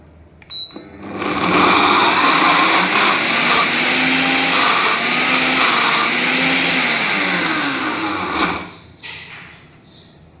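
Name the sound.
mixer grinder coarsely grinding sliced ivy gourd (kundri)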